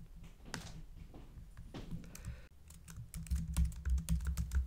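Close computer keyboard typing as a page title is entered in a web content manager, with quick irregular keystrokes that grow denser and louder toward the end.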